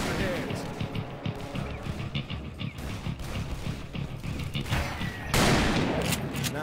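Dense, rapid gunfire from the Western shooter video game Call of Juarez: Bound in Blood crackles almost continuously, with overlapping shots and louder bursts toward the end, while voices talk over the action.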